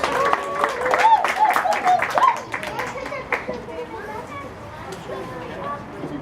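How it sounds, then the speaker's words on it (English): Children and adults at a Halloween open house clap for a child named Malachi, loud at first with a lively mix of voices and squeals, then thinning to scattered claps and chatter. "Can we give Malachi a big round of applause?"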